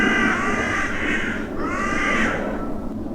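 Crows caw loudly in two harsh, drawn-out bursts as they fight for roosting spots in the evening near a World War II airport, close and clear with no talking.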